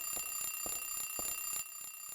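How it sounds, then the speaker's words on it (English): An alarm rings in Silent Hill 3, a steady electronic tone with regular pulsing bursts about every half second, loud and alone, cutting off near the end. "Will you turn off the alarm?"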